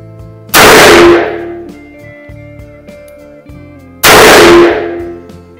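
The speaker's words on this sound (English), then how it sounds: "this is a mag full of 357 Magnum. I'll shoot this one double action." Two loud, sharp .357 Magnum shots from a Dan Wesson 15-2V revolver fired double action, spaced about three and a half seconds apart, each with a ringing decay and a quiet stretch between.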